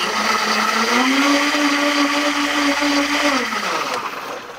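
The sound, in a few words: blender mixing coffee with superfood creamer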